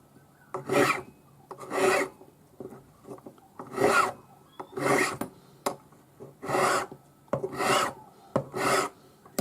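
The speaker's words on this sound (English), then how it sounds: "So your number 2 cut flat hand file, and I'm not really changing the profile of this any." A number 2 cut flat hand file rasps across a forged ring, smoothing hammer marks in a steady rhythm of about nine strokes, each a close, distinct scrape with short pauses between.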